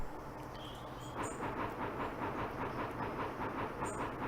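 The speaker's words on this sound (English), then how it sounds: "And it's a little old rattler train." An old rattler train in the video game Bounty Train rolls along at full speed hauling heavy goods, giving a steady rhythmic clickety-clack and hiss with faint high chimes.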